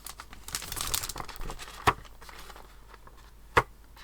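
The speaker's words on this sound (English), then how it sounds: "It's some kind of plasticky film." Crinkly, plasticky film from an art supply box being handled up close, a stretch of rustling and crumpling followed by two sharp crackling snaps, with no talk.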